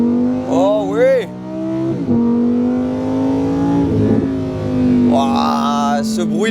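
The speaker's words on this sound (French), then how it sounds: "ce bruit de V10, il est quand même sympa" Lamborghini Huracán Sterrato V10 engine accelerating in rally mode, a loud, steady engine tone that rises in pitch, with excited voices talking over it near the start and end.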